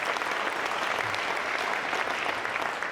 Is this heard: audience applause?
yes